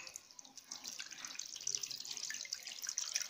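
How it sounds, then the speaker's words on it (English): Homemade tamarind drink is poured through a strainer, giving a steady, moderately loud liquid trickle and splash with a few bright drips and no voices. "So I'm going to strain. This is my strainer."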